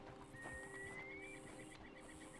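A horse in the Western video game Red Dead Online whinnies with a rising, drawn-out neigh, with soft hoof clip-clops and quiet ambient game sounds underneath.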